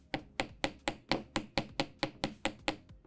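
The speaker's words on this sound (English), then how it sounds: "And I kind of like to hammer this part too" A small hammer strikes metal jewelry wire for ear wires, about a dozen crisp, evenly spaced taps in a quick steady rhythm, close and alone.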